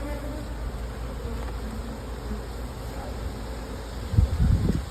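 Honey bees hum steadily at an open hive during a brood chamber inspection, a dense continuous buzz with a few louder thumps and rustles near the end.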